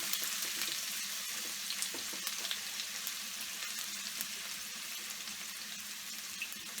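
A chopped onion sautes in a pan for minced chicken keema with green peas, giving a steady, dense sizzle and crackle throughout with faint scraping, close by and with no voices.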